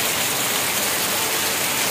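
Heavy monsoon rain pours down steadily in a village near a river, a dense, even hiss with no pauses or voices.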